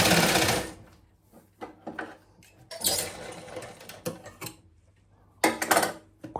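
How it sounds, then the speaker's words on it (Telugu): Sewing machine stitching a folded half-inch fabric edge in a tailoring class, heard in several short close bursts of rapid clatter separated by quiet pauses. "ఒక 1/2 ఇంచ్ ఇట్లా ఫోల్డ్ చేసుకొని మొత్తం స్టిచ్ చేసుకోవాలి"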